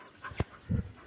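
Labrador dog panting up close, two short breathy bursts separated by a brief pause, with no talk.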